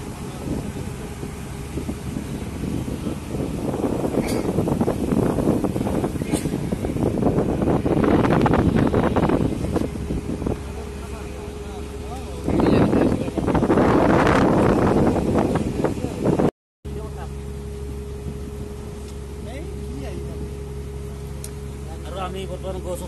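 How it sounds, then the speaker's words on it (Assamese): Wind gusting across the open upper deck of a ferry at sea between the Gateway of India and Elephanta, a steady broadband roar with louder buffeting surges, heard under people talking. "চাৰিওফালে খোলা আৰু ধুনীয়া বতাহ দিছে"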